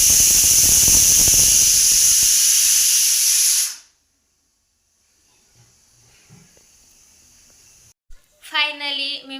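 A pressure cooker cooking rice vents steam in a loud, steady hiss after its whistles that cuts off abruptly, followed by quiet with a few soft clinks and a brief voice at the end.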